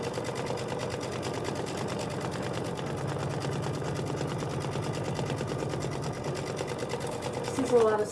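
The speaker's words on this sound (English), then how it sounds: "A lot of stitching." A sewing machine stitching a quilted cotton book bag runs in a fast, steady, continuous whir of needle strokes, close and loud, ending with a brief louder clunk.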